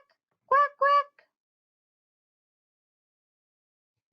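Two quick, nasal quacks voiced by a person imitating a duck, close and clear, followed by a long silence.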